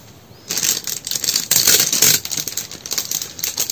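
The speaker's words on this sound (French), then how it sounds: "Je vais mettre un petit bout de scotch." A small strip of adhesive tape is torn off the roll, a dense burst of close crackling and ripping noise lasting a few seconds with uneven bursts, no voice over it.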